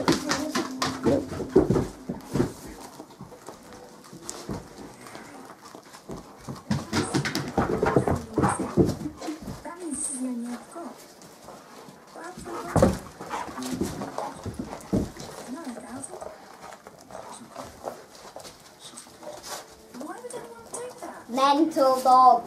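Two dogs tear into wrapped Christmas gifts, with crinkling and ripping paper, scrabbling, and occasional excited whines and snorts. People talk and laugh intermittently throughout.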